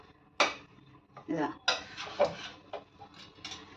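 Chana dal flour roasting in a pan for laddu, stirred and turned with a spatula: a series of separate scraping and clanking strokes against the pan, close and moderately loud, with brief quiet gaps between.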